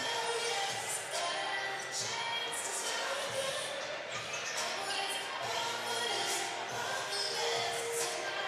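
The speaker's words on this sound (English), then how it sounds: "It looks like a dribbling drill." Basketballs thud in a loose, overlapping rhythm as a high school boys team runs a dribbling warm-up drill in a gym, with a steady crowd murmur and shoe squeaks throughout.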